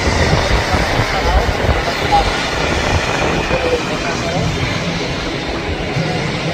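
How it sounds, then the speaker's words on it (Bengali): A cargo plane's steady, loud engine roar fills the whole stretch, a broad rumbling drone as it builds speed on the runway at Dhaka airport, with no pauses. "বিমানটি কিন্তু রানিং হয়ে গিয়েছে এখন টেক অফ করার জন্য সে রানিং হচ্ছে"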